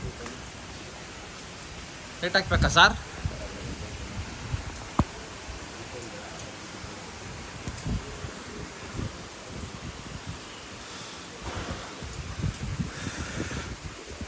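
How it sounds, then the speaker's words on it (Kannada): Heavy rain falling at an outdoor temple site, a continuous hiss of downpour with scattered patters and rustles, while people talk nearby and a short loud handling noise breaks in early. "ಅಯ್ಯೋ ತಿರ್ಗಾ ಮಳೆ ಸ್ಟಾರ್ಟ್ ಆಗಿದೆ."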